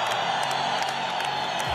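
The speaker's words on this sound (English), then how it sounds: "The crowd here in Moscow on their feet. Very appreciative, and that says it all." A Moscow crowd cheers and applauds after a wrestling fight, a steady, dense roar of voices and clapping that holds at an even level throughout.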